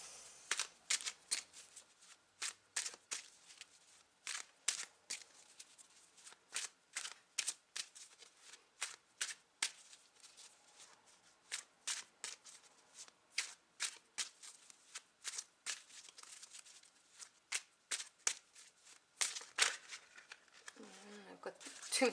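Tarot cards being shuffled by hand during a reading: a long run of quiet, close, crisp riffles and slaps that repeat in irregular bursts.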